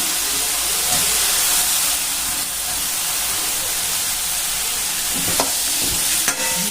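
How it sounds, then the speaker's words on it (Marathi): Sliced potatoes fry in hot oil for a potato curry, giving a steady, dense sizzle and hiss that runs throughout, with a few soft stirring knocks near the end and no voices. "आता आपला बटाटा ती सगळा चांगला तेलामध्ये परतल्यानंतर"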